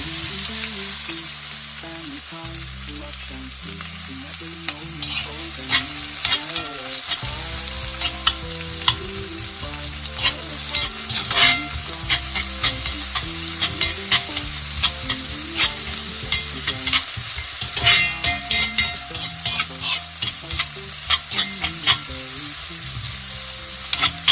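Chillies roast and sizzle in a pan for a Kerala fish curry base, a constant close crackle with repeated clattering stirs of a spoon, loud and without talk.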